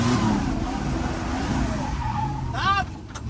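A Chevette car moving on a wet, rain-soaked road, its engine and tyre noise steady and close, with a brief squealing skid near the end. People talk over it.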